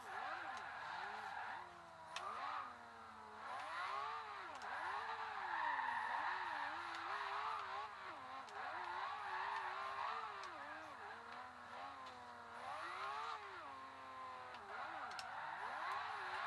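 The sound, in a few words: Lamborghini Aventador drifting in video game Forza Horizon 2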